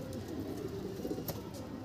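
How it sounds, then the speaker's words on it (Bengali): Madras pigeons coo softly and continuously in a loft, a low steady murmur of several birds close by with no voices over it. "এইটা ম্যাড্রাসি কবুতর"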